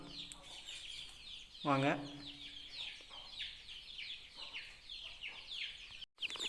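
Native country chickens cluck while being fed a mix of wheat, rice and pearl millet, with one clear drawn-out call standing out over softer scattered clucks as a person speaks nearby.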